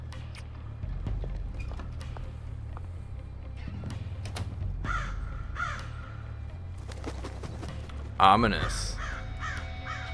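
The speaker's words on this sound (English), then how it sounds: "The crow." A crow caws from the video game Wolfenstein: The New Order, a burst of harsh repeated calls near the end over a low ambient rumble, with someone talking briefly beforehand.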